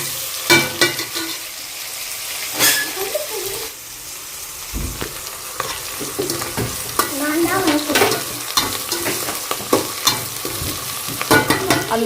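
Onions and curry leaves sautéing in a pan for biryani, with steady sizzling and frying broken by repeated scrapes and clinks of a spoon stirring, close and alone.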